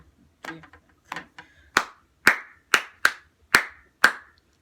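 Hands clap sharply and alone, beginning with a few softer, uneven claps and settling into a run of crisp, evenly spaced loud claps about half a second apart.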